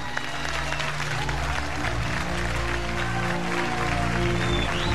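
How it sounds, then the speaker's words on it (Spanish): A loud, dense wash of applause rises for young dancers after a dance performance, continuous across the whole stretch, with steady low musical tones running underneath. "este aplauso grande es para ustedes"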